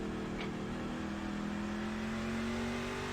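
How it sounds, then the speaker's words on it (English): Racing truck engine in the iRacing video game, sustained drone with a steady harmonic tone rising slightly in pitch across the clip, a near, loud continuous engine note with no speech. "Heard that downshift getting into 1"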